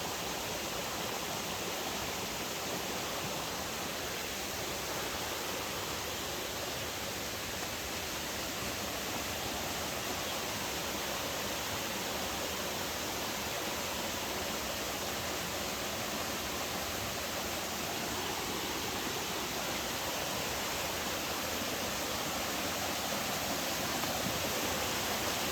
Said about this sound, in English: Wouldn't call it a waterfall, but there's water coming down through there.